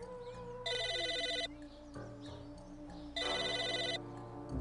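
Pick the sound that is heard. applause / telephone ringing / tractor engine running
telephone ringing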